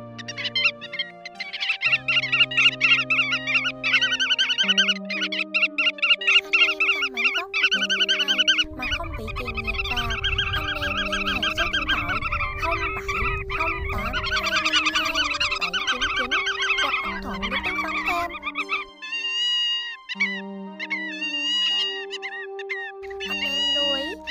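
A recorded woodcock call used as a lure for hunting migratory birds plays as a continuous stream of high, chirping and trilling notes, steady and fairly loud, with a denser low rumbling passage in the middle and no talking.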